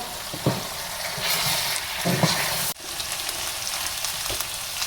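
Chicken masala shavayi sizzles steadily in a pan, a close, continuous hiss of frying with occasional stirring scrapes and a brief clatter partway through.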